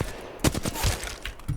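Bursts of Flatline rifle fire in Apex Legends, a few short clustered shots cracking close and loud over a steady game backdrop.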